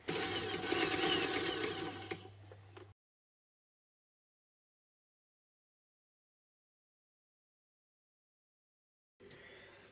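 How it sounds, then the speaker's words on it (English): A sewing machine stitching along the edge of a fabric hem runs in a steady close whir for about three seconds, then silence, then starts again briefly at the end. "Then I'm going to machine stitch along the edge here to hold it in place."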